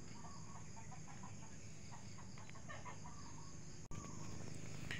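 Faint clucking of chickens over a steady hiss of insects, with a brief sharp click near the end.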